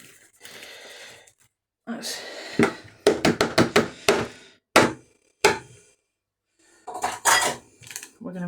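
A whisk and then a spoon scrape and clatter in a bowl of Christmas pudding cookie dough, with bursts of rapid clinks and knocks and a few pauses. Soft talk is heard in between.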